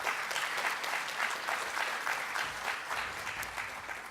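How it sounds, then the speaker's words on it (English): An audience claps for event sponsors at a transportation infrastructure forum, a full, even round of applause holding steady for about four seconds with no speech over it. "Let's give our sponsors a round of applause for making this possible."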